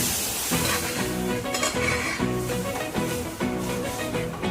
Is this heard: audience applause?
no